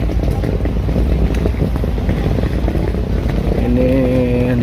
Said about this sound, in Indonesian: Kapalnya udah datang, jadi kita naik kapal pelni lagi.